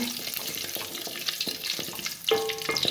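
Curry leaves and urad dal fry in hot oil for a carrot palya, a close, crackling sizzle broken by stirring scrapes and a sharper clatter near the end, with no voices.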